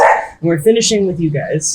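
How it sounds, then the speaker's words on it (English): A neighbor's dog barks in short yips and whimpering bursts, close and loud, mixed with a man's speech running over it. "That's our neighbor's dog."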